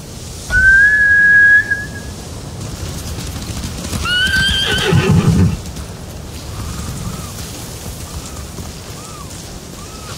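Samurai horses in the Ghost of Tsushima game give a loud, clear whinny early on, then a second neigh with a burst of clip-clopping hooves, followed by faint chirping calls over a steady outdoor ambience.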